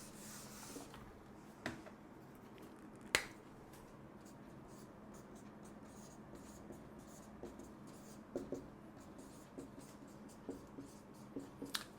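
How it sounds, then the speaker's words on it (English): Pen writing on a board during a math lecture, a faint continuous scratchy stroke sound with a few sharper taps and squeaks, quiet room hum underneath and no talking. "So it's a little faded, so I'm going to write once again."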